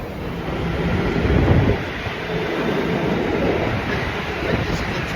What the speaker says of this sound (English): This is the train now.